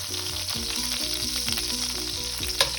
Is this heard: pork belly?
yes